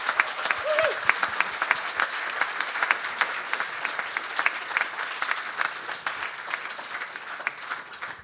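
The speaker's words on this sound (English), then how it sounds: "with a round of applause, I'd like you to thank Helen and Ben" An audience at a closing session of an agroforestry show applauds to thank the organisers, dense continuous clapping that holds steady throughout at moderate loudness.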